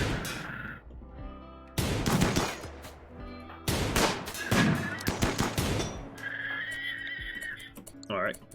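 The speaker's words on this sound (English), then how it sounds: "So he's trying to shoot at Zero, but Zero's behind cover." Bursts of gunfire in the RimWorld video game, several loud rapid volleys separated by short pauses, with game effects in between and no talking.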